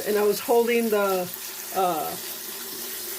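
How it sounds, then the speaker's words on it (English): Kitchen sink sprayer spraying water in a home kitchen, a soft steady hiss running beneath a person talking close by. "So I'm just going to use the sprayer here."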